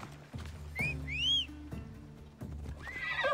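A horse in Assassin's Creed Odyssey gives a rising whinny with clip-clopping hooves beneath it, and a second neigh follows near the end, all fairly quiet and close.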